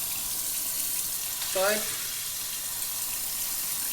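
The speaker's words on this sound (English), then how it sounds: "now we'll see if it's flowing. This is normal water, this is the shower" Water runs from a kitchen tap fitted with a Philips water filter, a steady bright hiss throughout, with a voice speaking briefly over it.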